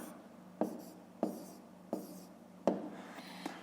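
A pen writes on paper during a fifth-grade math exercise, making soft, close scratching with distinct tap-like strokes spaced roughly every half second in a quiet room.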